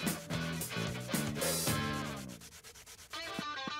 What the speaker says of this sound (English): we need to sandpaper all the rough surfaces so they are ready to paint